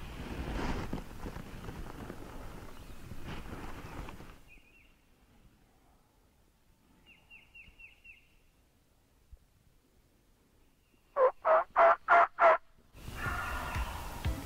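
Wild turkey gobbling in spring woods during a hunt: a faint pair of distant calls midway, then a loud close burst of five quick gobbles, with soft rustling before and after.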